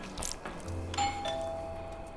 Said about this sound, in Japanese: ピンポン。 That must be Delilah at the door